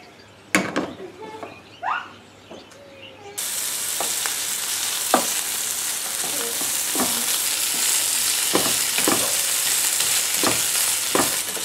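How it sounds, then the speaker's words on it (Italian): Speck and onion sauté in a pan with a drizzle of oil. After a few quiet clicks and handling sounds, a steady loud sizzle and crackle starts and continues, broken by occasional stirring taps. "E metto anche questo in padella. Appena un filo d'olio. E lo faccio soffriggere."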